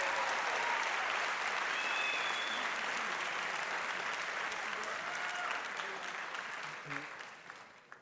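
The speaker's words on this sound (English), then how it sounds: "Just one more big round of applause for him." Sustained loud applause from a crowd at an athletic awards night, steady for about seven seconds before thinning out and fading near the end.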